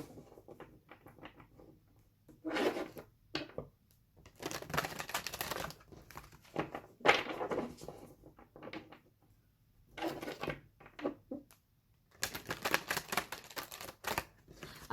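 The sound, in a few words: tarot cards being shuffled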